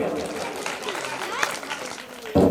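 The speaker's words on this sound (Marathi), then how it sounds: "या सर्व चिमुकल्या विद्यार्थ्यांचं जोरदार टाळ्या वाजवून स्वागत करूया." Applause from an audience at a primary school cultural program welcoming young students after a children's dance, a broad, steady clatter of clapping with crowd noise that swells into a louder burst near the end.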